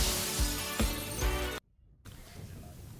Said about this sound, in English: When you hear the crash.